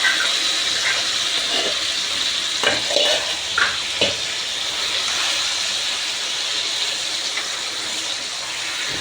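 Sorrel leaves fry in a hot onion tempering, making a loud, continuous sizzle with a few stirring clatters near the start.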